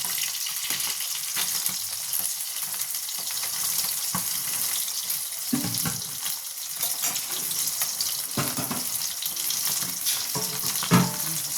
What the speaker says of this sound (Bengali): দেখুন আমার মাছ ভাজাটা হয়ে গেছে